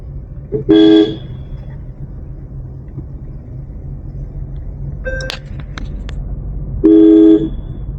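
Two short car horn honks, one near the start and one near the end, over a steady engine rumble, with a brief clatter in between.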